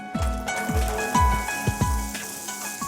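Carrots frying in a little oil, a soft steady sizzle running throughout with several low, quick knocks and scrapes of stirring spaced across it, close and alone with no talking.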